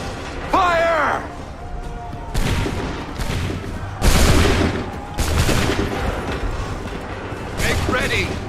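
Musket volleys in Assassin's Creed 3 gameplay, several broad booming blasts a second or so apart with rumbling tails, shouted commands from voices between them.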